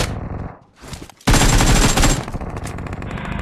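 Automatic gunfire in the mobile battle-royale game BGMI: a loud, dense burst of rapid shots after a quieter stretch, then continuing sporadic shots and rattling game noise.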